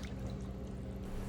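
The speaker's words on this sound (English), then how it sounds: "pour out all of the water," Hot water from blanching a whole chicken is poured out of a pot, a short steady splashing pour close by.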